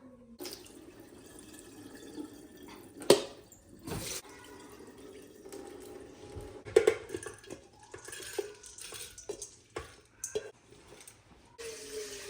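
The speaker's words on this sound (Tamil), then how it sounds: "இப்போ சாம்பார் வைக்கிறதுக்கு 1 டம்ளர் துவரம்பருப்பு நல்லா கழுவி குக்கரில் போட்டுக்கலாம்" Toor dal lentils being rinsed with water in a home kitchen, quiet splashing and swishing with a few sharp clinks and drips, close and soft, no talking.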